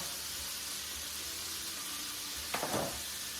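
Shrimp sizzle in a pan as they finish cooking, a steady broad frying hiss close by, broken near the end by a brief louder crackle and stir.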